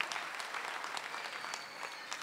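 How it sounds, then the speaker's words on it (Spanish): A crowd at a political rally in Rosario claps steadily and loudly, dense applause filling the whole moment with no pauses. "El aplauso bien fuerte, bien alto"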